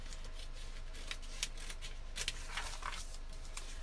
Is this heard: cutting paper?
yes